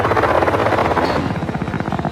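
A helicopter flies away in the movie The Invasion, a loud, steady rotor chop with pulsing blades that drifts slightly as it departs.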